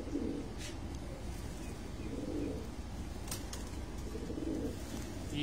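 Pigeons coo on a rooftop pigeon loft in Sukkur, soft low rolling calls repeating about every two seconds, near and steady over a constant background hum.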